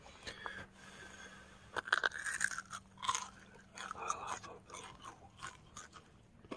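Close, quiet crunching and chewing of Cajun-style fried shaggy parasol mushrooms, with irregular bites and soft mouth sounds against a low background hum.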